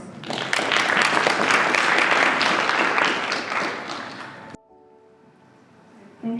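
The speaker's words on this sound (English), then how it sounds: "Another round of applause." Sustained audience applause at a supply chain summit in Botswana, a full, steady wash of clapping lasting about four seconds that stops abruptly, followed by quiet room tone.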